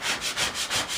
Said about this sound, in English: you take the little burnishing tool